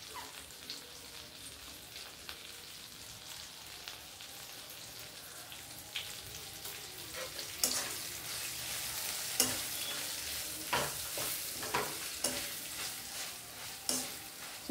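Vegetables for a karonda and ripe red chilli chutney fry in a pan with turmeric, giving a soft, steady sizzle broken by sharp stirring scrapes that grow more frequent later on.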